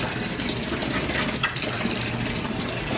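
Water pouring from a household tap fed by a rooftop tank makes a steady gushing, splashing rush, close and constant throughout, with no talking.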